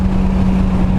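A 2006 Mitsubishi Evo9 MR engine drones loud and steady under throttle on the Laguna Seca track, heard from inside the car in a short, unbroken burst.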